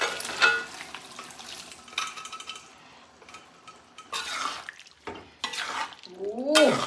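Masala with curry leaves and tomato stirred in a hot pan, with a soft sizzle beneath bursts of scraping and clanking spoon strokes, separated by quieter pauses, and a brief voice-like tone near the end.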